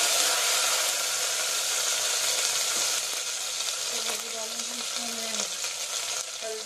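Garlic-ginger paste sizzles steadily in a pan of fried onions, a loud, dense crackle that holds without pause, with faint scraping from stirring near the end.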